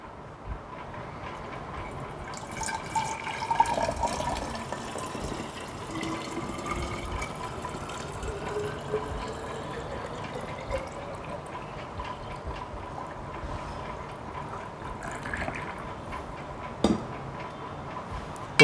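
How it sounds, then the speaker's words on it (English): Homemade oral rehydration solution of table sugar and salt is poured into a 1 liter bottle, giving a faint, continuous watery trickle and gurgle with a few small knocks, and no voices. "Now we will place it in the 1 liter bottle."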